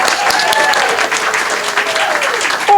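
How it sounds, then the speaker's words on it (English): A studio audience at a live radio show staged by a historical society breaks into loud, sustained applause, dense and steady throughout, ending with a brief whoop near the close. "let's practice again and hear the best audience applaud."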